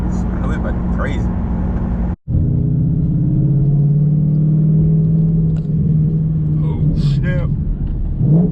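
A car with a Borla Atak exhaust revs loudly and close, its deep exhaust rumble dropping out briefly before a long sustained drone with pitch swells, and voices talking over it.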